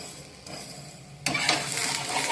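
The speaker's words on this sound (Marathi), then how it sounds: "दोन्ही साइडनीच आपल्याला तेल लावून घ्यायचं आहे आणि मस्त असा सोनेरी कलर येईपर्यंत भाजून घ्यायचा आहे।" Methi paratha frying in oil on a hot pan, a soft sizzle that jumps sharply louder halfway through and then holds as a steady, close crackle with no talk.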